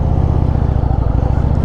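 Indian Springfield Darkhorse motorcycle riding, a steady low engine drone with rhythmic exhaust pulses and wind rush, loud and continuous throughout.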